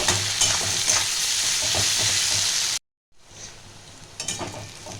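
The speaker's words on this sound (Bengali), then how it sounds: "পেঁয়াজটা একটু আমি হালকা ব্রাউন করে ভাজবো।" Sliced onions, four medium ones, fry and sizzle in oil while being stirred, a steady close hiss with scraping stirs, briefly cutting out before the frying resumes.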